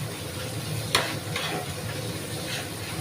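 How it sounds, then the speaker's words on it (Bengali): Spice paste sautéing in oil in a pan makes a moderate, even sizzle and hiss, with one sharp utensil tap early on and faint stirring after. "তো ভালো করে মশলাটা আমি কষিয়ে নিচ্ছি বন্ধুরা।"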